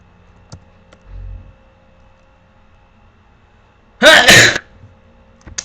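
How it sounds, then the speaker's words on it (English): A single sharp sneeze bursts out loud and close, lasting about half a second, preceded by a soft low thump and faint scattered clicks against a quiet room. "That's me sneezing in the recording, not in real life."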